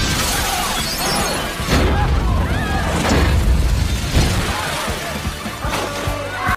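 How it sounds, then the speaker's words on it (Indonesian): During an earthquake disaster scene, a cooking pot explodes inside a cafe, bursting into loud shattering crashes and booming impacts with glass and debris smashing repeatedly, dense and chaotic from start to finish. "Dan juga sebuah kafe yang tiba-tiba saja pancinya meledak."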